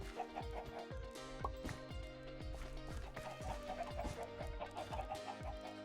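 Chickens clucking in Minecraft, gathered in a corner of a pen, a steady stream of repeated low clucks with rhythmic mechanical clip-clop patter running underneath, fairly faint overall.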